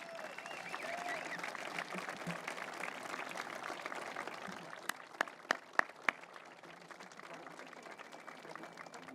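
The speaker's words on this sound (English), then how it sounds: "Stand up, get some applause." An audience applauds for the Howe family at the opening celebration of the Gordie Howe International Bridge, giving steady, fairly distant clapping with a murmur of crowd voices. A few sharp, closer claps stand out near the end.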